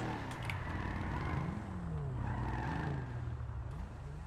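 A Ford GT in GTA V drives steadily with a continuous engine drone and rising and falling revs, with brief tire squeal in places. No one speaks.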